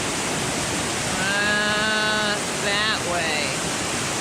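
River cascades and a waterfall at Rollo Fall and Thompson Falls rush in a constant broadband roar close by, with a voice talking over the steady water noise.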